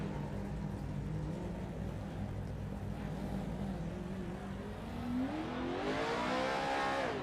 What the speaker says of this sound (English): Let's see what it's like to do a burnout in a Pro 4 truck